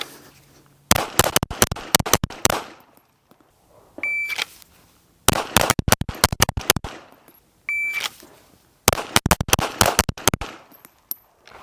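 During USPSA range practice drills, a pistol fires rapid strings of loud gunshots in three bursts. A shot-timer beep starts each string, and each burst ends in a gap with only quiet background between.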